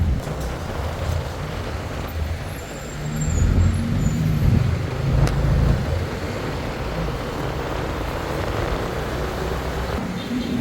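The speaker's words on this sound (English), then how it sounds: "This is my road, and it's not the busiest road around, but it does get busy, and so you're kind of going to be weaving in and out of traffic a lot." Steady daytime road traffic on a moderately busy street in Bangkok, a continuous rumble of passing cars and buses with a swell in the middle and a brief hiss like an air brake, heard from among the vehicles without talk.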